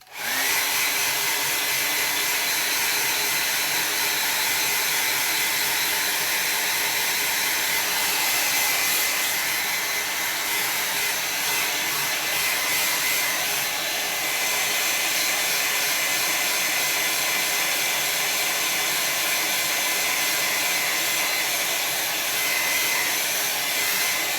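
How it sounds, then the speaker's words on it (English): A hair dryer roars continuously at close range while drying watercolor paint, a loud steady whooshing hum that holds for the whole stretch with slight shifts in pitch. "I'm gonna dry it off. Here's the blow dryer."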